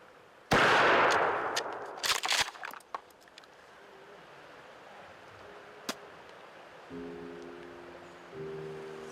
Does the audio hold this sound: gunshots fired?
yes